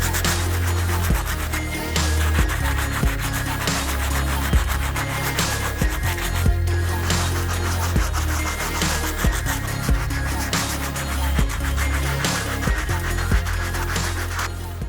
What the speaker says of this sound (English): The first brush we're going to be using is a stiff bristle brush to clean these soles up.